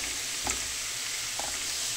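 Onion sizzles steadily in a frying pan, a close, even hiss with a couple of faint stirring clicks and no talking.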